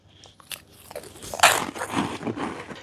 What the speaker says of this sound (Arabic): للأمانة البطاط نفسه وايد كرانشي